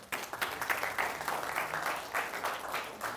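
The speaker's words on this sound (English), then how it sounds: "can you just give a round of applause to Emily" Applause from a university lecture audience, a soft, steady patter of many hands heard from some distance, fairly faint, with no talk over it.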